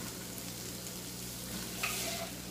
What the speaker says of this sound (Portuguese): refogar a carne aqui.